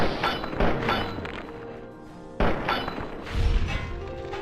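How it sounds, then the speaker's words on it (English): A bullet strikes a head in the Devil May Cry video game on PS4, heard as a few dull, heavy thunks spaced apart, loud and close against a muted game backdrop. "What happens if you take a bullet to the head?"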